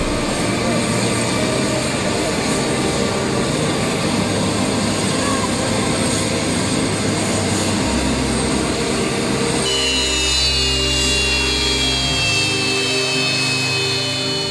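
Firefighting aircraft sent from Spain to help fight forest fires in Turkey fly overhead, a loud, continuous engine roar that persists throughout and shifts in tone partway through.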